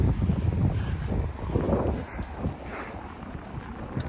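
Gusty wind buffets the microphone along a roadside on the Camino Francés between Cacabelos and Trabadelo, a loud continuous rumble that eases and swells without pause.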